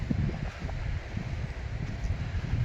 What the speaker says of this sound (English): it's still quite breezy but a little warmer